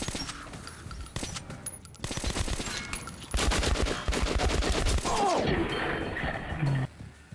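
Dense, loud automatic gunfire and rapid bursts of shots in the video game Metro Last Light, continuous for several seconds with a brief lull before the firing resumes.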